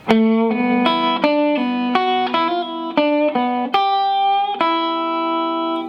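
A distorted electric guitar plays a bluesy lick of quick single notes and bends, ending on a sustained held note.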